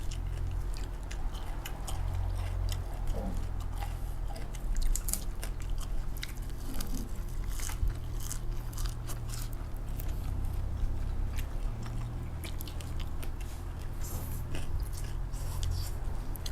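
Someone chews and bites into spicy raw beef koi salad bought from a market, giving steady close, wet crunchy mastication over a constant low background hum, with no talking.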